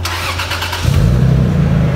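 A Toyota Cressida fitted with a 2JZ engine, its exhaust cutout fully closed, cranks with a quick rattling churn and then catches into a loud, close, steady idle rumble.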